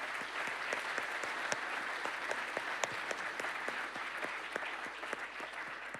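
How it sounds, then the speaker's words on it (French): An audience at a talk applauds a chemist, a steady, fairly quiet wash of clapping with distinct individual claps popping out, heard from a distance. "on vous applaudit"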